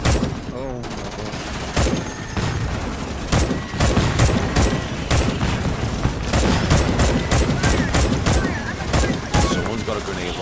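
Grenade launcher blasts and rapid gunfire in the Starship Troopers video game, a dense stream of loud shots and booms with frequent sharp cracks and a constant busy battle din underneath, with a voice occasionally audible.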